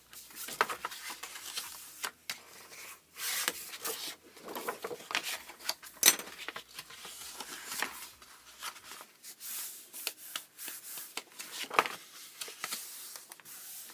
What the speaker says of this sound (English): now we're going to fold and burnish all these score lines